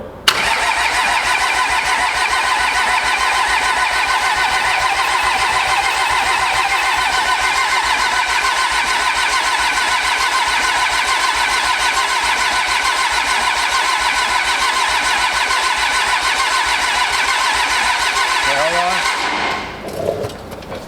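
A pro street truck's engine cranks and runs steadily and loudly for about nineteen seconds, then cuts off abruptly near the end, with voices talking over it.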